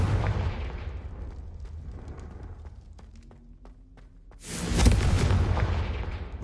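The Confringo blasting spell in Hogwarts Legacy goes off as a loud, close, rumbling explosion that swells in near the end, following a quieter stretch of faint clicks and a low hum.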